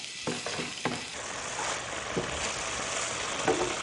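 Turkey breast dropped into hot garlic ghee on a cast-iron single-burner hot plate: a few sharp clanks and taps at first, then a steady, bright sizzle and spatter that holds throughout.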